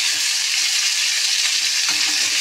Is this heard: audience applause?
no